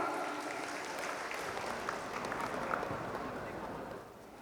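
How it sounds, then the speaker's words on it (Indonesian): Audience applause at a regional election candidates' vision presentation, a steady mass of clapping that runs for several seconds before dropping off, with voices mixed faintly underneath. "Boleh tepuk tangannya Bapak Ibu?"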